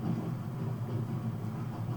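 Steady low rumble of a train riding along the rails, continuous and even at moderate level with no voices, from inside the train in the Master Thief video game.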